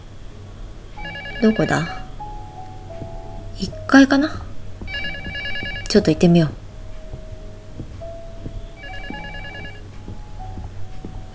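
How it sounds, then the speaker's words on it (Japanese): A telephone rings in the LUTO horror game demo, sounding in several spaced bursts of bright, repeated tones, with someone talking between and over the rings. "あ、電話だ。"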